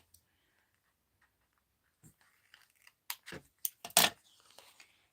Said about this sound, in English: I'm just going to take my scissors and cut it